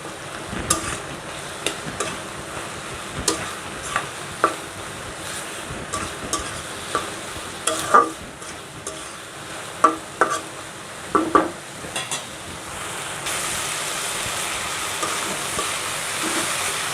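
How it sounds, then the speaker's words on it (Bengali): Taro curry with dried fish is stir-fried in a pan, with repeated scraping and stirring strokes in irregular bursts over a low, steady sizzle and hiss, and no talking. "ভালো করে কিন্তু কচুটা সিদ্ধ করে কষিয়ে নিব তারপরে ঝোল দিব"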